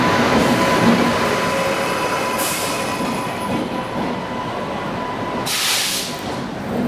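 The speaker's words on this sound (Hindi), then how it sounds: "आई थिंक ये दुर्गियाना एक्सप्रेस है।" Durgiana Express train running close by a stopped train, a steady rumble of wheels and cars with high hissing bursts and faint squeals rising and falling over about seven seconds.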